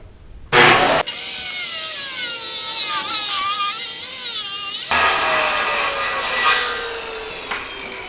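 A Shopsmith bandsaw cuts a side off a wooden piece, with a sharp start followed by a loud, sustained whining rasp of blade through wood that shifts pitch midway and trails off near the end.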